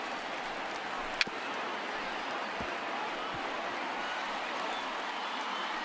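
A packed stadium crowd of over 36,000 in the MLB The Show 19 baseball video game roars steadily as fans rise for the final out, a dense, even wash of cheering with one sharp knock near the start.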